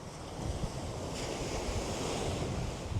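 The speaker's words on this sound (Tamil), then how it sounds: "அலைய பார்த்தீங்களோ" Rough sea waves crash in strong wind at Point Pedro's northern tip, a loud continuous roar and rush with gusting wind buffeting the microphone.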